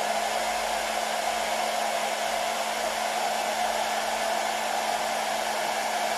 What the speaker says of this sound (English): I'm going to switch on our hairdryer